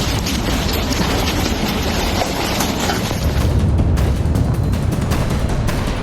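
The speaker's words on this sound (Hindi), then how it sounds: "ब्लास्ट इतना तेज था कि मलबा कई फीट आसमान तक उड़ गया।" Aftermath of an Israeli airstrike on a building in southern Beirut, Lebanon, heard as a loud, sustained roar of heavy rumble and crackling debris, with sharp bursts near the end and no clear speech.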